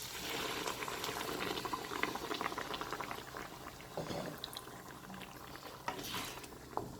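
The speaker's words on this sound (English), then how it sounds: "1 large glass of boiling water." A large glass of boiling water is poured into simmering dal, making a sustained, close splashing gush with bubbling and sizzling that thins into intermittent drips and pops toward the end.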